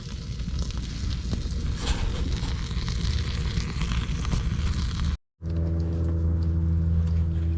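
An outdoor campfire burns with a dense, steady crackling rush for about five seconds, then a brief silence gives way to a steadier low hum.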